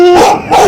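The neighbour's excited dog lets out two quick, loud, close barks with a whiny, yipping edge.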